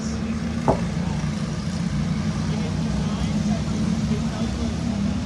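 Sprint karts start a feature race at a track, their engines making a steady droning roar heard at a distance, with one brief sharp sound near the start.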